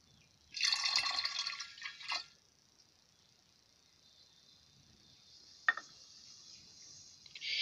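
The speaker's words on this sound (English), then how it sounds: "I will make a mix, half nitric, half water." Nitric acid diluted half and half with water being poured in a metal-refining setup: a faint, brief hissing, splashing pour lasting under two seconds, then near-silence broken by a single small drip and a soft trailing splash.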